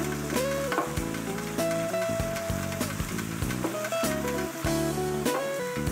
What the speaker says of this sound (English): Saute the onions until they're light golden brown.